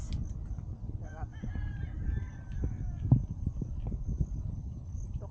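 A rooster crows near a chicken farm on a sunrise ride through a calamansi grove, a clear call over steady background rumble, with people talking nearby.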